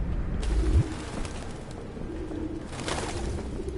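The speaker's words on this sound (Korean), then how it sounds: "새 모이를 주니까 이렇게 새들이 오는 거구나." Pigeons cooing softly after bird feeding in the video game Detroit: Become Human, gentle low coos over a steady ambient background with no talking.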